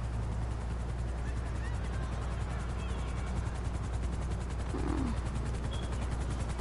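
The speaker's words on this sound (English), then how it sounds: "Where the freak is that chopper?" Steady rotor drone of a helicopter in a PS4 video game, low and constant under faint game noise and scattered distant gunfire, with no speech over it.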